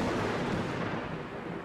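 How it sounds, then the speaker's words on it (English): Thunder rolls through the Darkwood game as a broad, loud, rumbling roar that fills the moment and slowly fades a little, with no talk. "As the thunder roars in."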